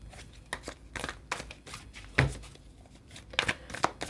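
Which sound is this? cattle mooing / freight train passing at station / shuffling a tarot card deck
shuffling a tarot card deck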